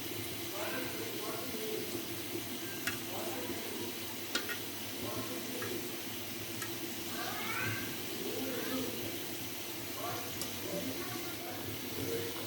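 Onions frying in a pan for a cabbage bhaji, a steady close hiss and sizzle lasting throughout at low volume, with a few faint clicks and a voice talking over it.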